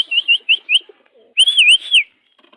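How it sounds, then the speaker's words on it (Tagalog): Pigeons being fed call out nearby in bright, chirping bursts, a quick series of short notes and then a longer warbling trill after a brief pause. "Pang kalapati natin dito."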